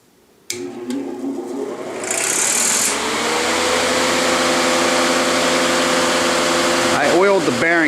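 A Dayton industrial pedestal fan switches on with a click and its motor spins up into a steady, loud hum and whir, running close and alone.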